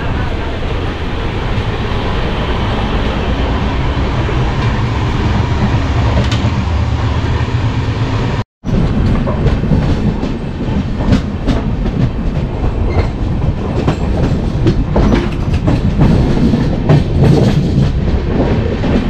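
Samaleswari Express train running on the rails on the Howrah to Jagdalpur route: a loud, steady rumble of wheels with a clickety-clack rhythm, broken by one short dropout partway through, with faint voices underneath.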